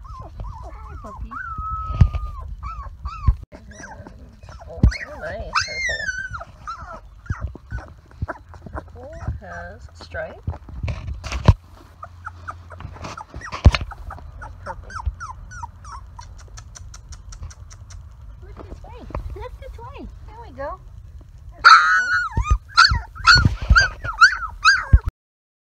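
A puppy barks and whines in bursts while a person talks nearby, with several sharp yaps near the end.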